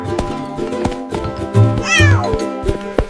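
A cartoon cat meows clearly several times, set over a bright children's nursery-rhyme tune with a steady beat.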